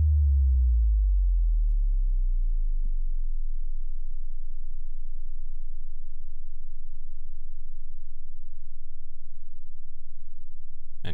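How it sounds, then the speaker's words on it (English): A pure sine tone sweeping steadily downward in pitch, starting strong and fading into a very low, barely audible hum with faint crackly ticks, ending with a brief click. "I'm gonna sweep the frequency down this time"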